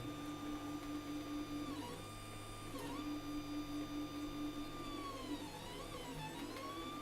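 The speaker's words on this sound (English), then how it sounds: "it's also for me a surprise how the printer is going to work" An Anet ET4 3D printer runs through a print, its stepper motors whining in steady tones that glide up and down as the head changes direction, fairly quiet and continuous with no voices.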